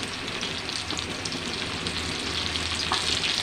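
Ground spice pastes sizzle and fry in hot oil with bay leaves while a Bengali rui fish curry is cooked: a dense, continuous crackle with an even sizzle throughout, close and moderately loud.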